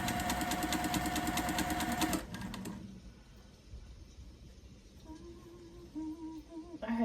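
A sewing machine stitches quilting fabric for a Christmas-tree stocking corner to corner, giving a fast, even mechanical chatter for about two seconds before it stops. Quiet room sounds follow.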